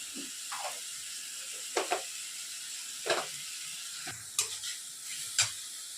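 Onion frying in a pan for a doi rui fish curry: a soft, continuous hiss broken by several sharp scrapes and clicks from stirring, spaced unevenly, close and fairly quiet.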